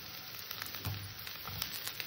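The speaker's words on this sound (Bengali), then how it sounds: "এবার গ্যাস একদম ছোটো করে দিয়ে নাড়াচাড়া দিয়ে ভেজে নিতে হবে" Thick-cut beetroot and carrot stir-frying in a pan over very low gas, a quiet steady sizzle with soft scraping stirs now and then, no talk.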